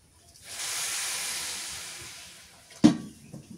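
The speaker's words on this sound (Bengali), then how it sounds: "চাউলটা কষানো হয়ে গেছে, গরম পানি দিয়ে দিই।" Hot water poured onto rice sautéed in a pot over a clay stove for chicken pulao, bursting into a loud, sustained steamy hiss that slowly fades, followed by a couple of sharp knocks.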